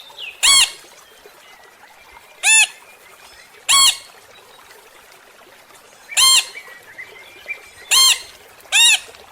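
A parrot lets out six loud, harsh squawks spaced a second or two apart, each short and piercing, against a quiet, faintly hissing background.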